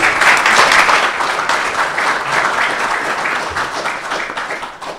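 An audience at a panel on training and equipping the enlisted force gives loud, dense applause that starts strong and tapers slowly over about five seconds.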